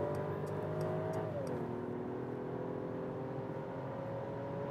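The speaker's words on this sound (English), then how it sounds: "The engine not that notable actually, so rather subtle. the six cylinder we have here in the S500, but still quick acceleration." A Mercedes S500 with a six-cylinder engine accelerates hard in sport mode on a German motorway, climbing from about 100 to 160 km/h. A subdued, steady engine drone and road roar fill the cabin, with a downward pitch shift as it changes gear.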